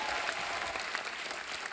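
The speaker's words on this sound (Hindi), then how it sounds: "जोरदार तालियां हमारे मेहमानों के लिए।" A studio audience at a comedy talk show gives its guests a loud, steady round of applause, dense clapping with a few sharper claps standing out, filling the space without a break.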